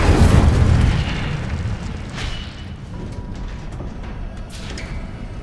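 The Incendio fire spell goes off in the Hogwarts Legacy game, a loud low whooshing burst at the start that trails off into a rumbling, crackling tail, with no talk.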